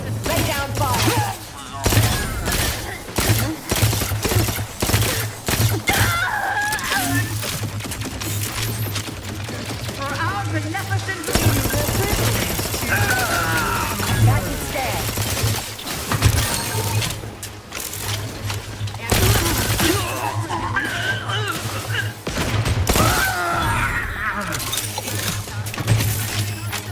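Sustained gunfire in Outer Worlds 2: rapid automatic bursts with mechanical clatter, loud and close, running nearly nonstop with short pauses and a constant low hum underneath.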